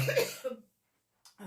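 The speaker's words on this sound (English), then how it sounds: "I might not be able to do this if I'm going to keep coughing." A person coughs up close while making a card box, with a harsh burst of two or three coughs, a short silence, then another cough starting.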